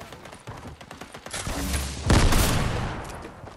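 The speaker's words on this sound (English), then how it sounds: "Careful, Sam, he's got an auto shotgun." Shotgun blasts and a dense burst of gunfire ring out in a Fortnite Battle Royale firefight at Greasy Grove, rising to a loud, close cluster of shots midway and then trailing off.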